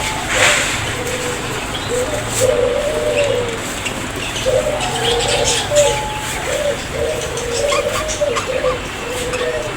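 Pigeons coo in soft repeated phrases alongside chirps from many caged foreign birds at a busy bird market in Kashinathpur, Pabna, with a steady crowd murmur and occasional faint voices behind.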